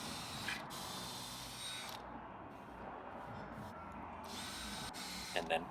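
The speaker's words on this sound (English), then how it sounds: "Doing the counterbore with a Forstner bit." A power drill spins a Forstner bit into cherry wood to cut a counterbore, running in two close bursts with a short pause between them, followed by a few small clicks of the tool at the end.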